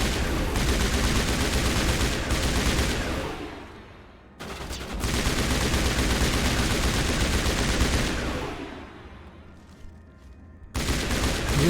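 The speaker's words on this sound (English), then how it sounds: "Oh, shooting at me." Sustained rapid gunfire in the Mass Effect video game, loud dense volleys rattling on for several seconds, dipping briefly, then resuming in heavy continuous bursts.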